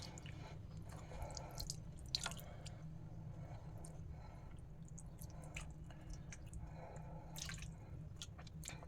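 Curd and milk poured over idols during a ritual bath at a home shrine give soft drips, splashes and wet squishing sounds, scattered and close, over a low background hum with no talking.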